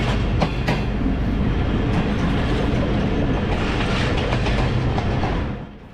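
Tezgam Express train running along the rails across Pakistan, a loud, steady close-up rumble with rhythmic clickety-clack of the wheels throughout, fading slightly at the very end.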